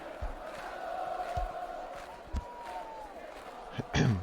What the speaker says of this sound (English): Crowd noise too loud